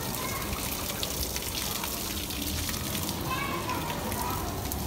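Water splashing over a large bull being bathed in hot weather, a continuous close hiss and spatter of falling water running throughout, with faint voices underneath.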